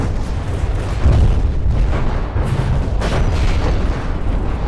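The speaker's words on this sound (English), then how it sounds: "Oh, that's the AA gun, I think." Dense, continuous barrage of anti-aircraft gun fire and explosions in the naval combat game From the Depths, loud rumbling booms and bursts layered over one another without pause.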